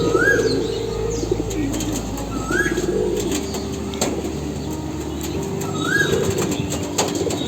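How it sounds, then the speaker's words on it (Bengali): Pigeons coo in a village loft, with soft rolling coos repeating every few seconds over chirps, wing flaps and general bird chatter nearby. "এটা হলো একটা নর কবুতর।"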